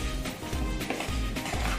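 A spatula stirs apple and grape crisp filling with flour in a bowl, giving soft, repeated scraping and sloshing strokes at a steady rhythm, close by, with no talking.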